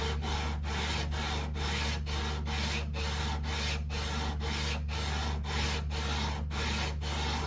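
Sandpaper works a rosewood fretboard on a Yamaha Compass Series 12-string guitar in steady, rhythmic back-and-forth strokes, a close, continuous abrasive scratching broken by brief regular pauses.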